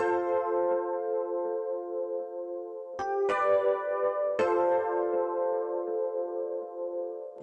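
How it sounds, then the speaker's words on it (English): Soft sustained keyboard tones blend a mellow piano with a muted, plucky clav, chords shifting a couple of times with gentle attacks and long decays. "with an ambient piano on the left sample and the muted clav on the right"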